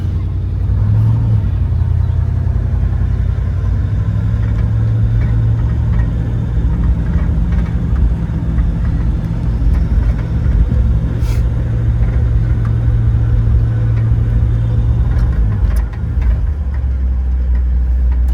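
A 1961 Chevrolet Impala convertible with a 348 Tri Power V8 on a test drive: a loud, steady low engine rumble throughout, with slight shifts in pitch as it cruises and a brief dip near the end.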